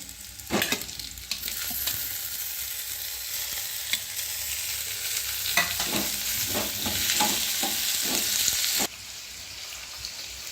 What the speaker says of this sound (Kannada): ಈರುಳ್ಳಿ ಸ್ವಲ್ಪ ಕೆಂಪಗಾಗೋ ತನಕನೂ ಫ್ರೈ ಮಾಡ್ಕೋಬೇಕು